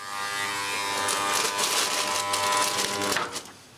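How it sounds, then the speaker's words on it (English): A vintage 1983 Remington electric shaver runs steadily with a close, bright buzz and a raspy cutting texture that varies slightly as it moves, then it cuts out near the end. "What a nice quality shaver."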